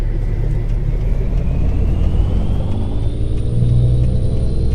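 Kenworth T600 truck in Euro Truck Simulator 2 cruising with a steady, deep engine rumble and a faint rising whine, continuous and close throughout with no talking.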